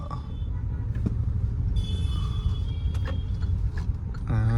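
Road traffic near a market, a continuous low rumble of passing vehicles with occasional mechanical clanks and a brief horn-like tone at the end, no talk.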